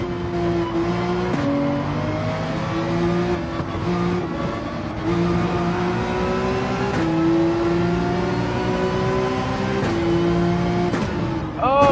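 Race car engine in Gran Turismo 7 at Spa, loud and close, climbing through revs then dropping at each gear shift in a steady pattern, with a voice talking over it at times.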